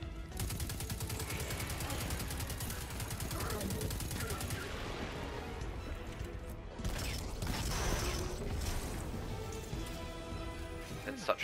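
Rapid automatic enemy gunfire in the video game Destiny 2, played on PS4 during a city assault, crackles in dense continuous bursts with mechanical clatter and explosions over game music and effects.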